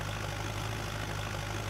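Narrow-wheeled tractor idling in the video game Farming Simulator 19, giving a steady, even low engine drone with no change in pitch or loudness.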